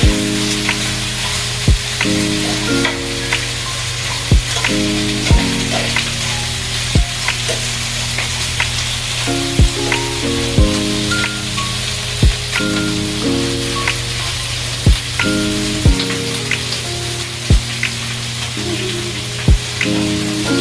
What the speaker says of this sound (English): we're going to go ahead and let those simmer for a few minutes